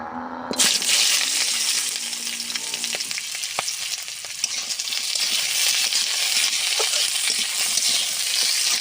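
Ginger, onion and garlic dropped into hot mustard oil in a kadai: a sudden loud sizzle that bursts in and then holds as a steady, bright crackling fry, with occasional clinks and stirring, no talk.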